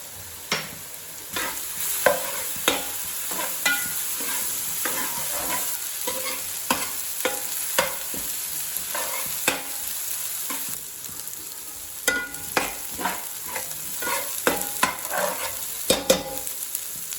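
Chopped onions and ginger garlic paste stir-frying in hot oil for prawn fried rice, a constant close sizzle broken by regular scraping and tapping of a spatula against the pan, no talking.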